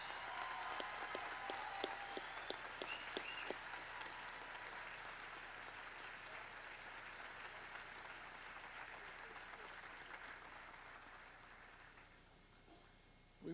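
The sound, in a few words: audience applause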